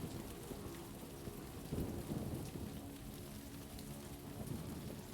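Heavy rain in the wartime strategy game Combat Mission Afrika Korps, a steady dense downpour with deep rumbles of thunder rolling through, continuous and fairly quiet, with no voices.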